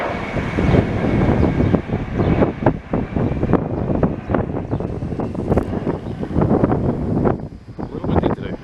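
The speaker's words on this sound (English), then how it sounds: "A little windy today." Strong gusty wind buffets the microphone at an outdoor plane-spotting spot near Montreal's airport, a loud, uneven rushing and thumping that rises and falls throughout.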